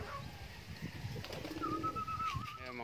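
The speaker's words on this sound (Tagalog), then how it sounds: "ito yung mga ibang ibon niya" Pigeons coo in a pigeon loft, a soft, continuous murmur of close birds with a brief whistle-like call partway through.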